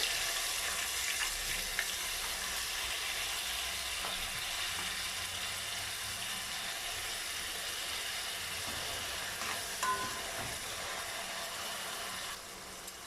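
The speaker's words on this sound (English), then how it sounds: "Next, I'm going to add the tomato." A sausage and potato curry fries in a pan, with chopped tomato added to it. A dense, even sizzle hisses steadily from start to finish, with a few faint clicks near the end.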